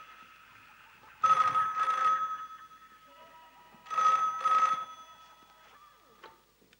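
A telephone rings unanswered in two double-ring bursts separated by a quiet gap. The ringing is clear and moderately close, with faint background hum between the bursts.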